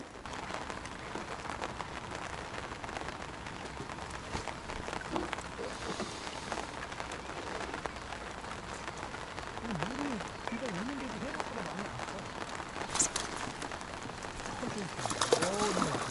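Rain falls steadily at a waterside crucian carp fishing spot during rising water, giving a constant close hiss throughout, with brief faint voices partway through.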